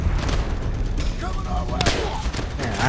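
Gunfire in the video game Call of Duty: World at War, dense booming shots and rattling bursts throughout, with a voice talking over the shooting.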